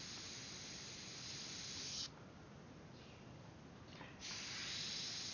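An airbrush sprays paint through a stencil while a Kobe Bryant portrait is painted, giving a close, steady hiss that drops away for about two seconds and then comes back at full strength.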